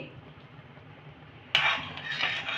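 A metal spoon scraping and clinking in a pan of milk being stirred on the stove with cardamom, starting suddenly partway through and continuing as steady close scraping over a quiet hum.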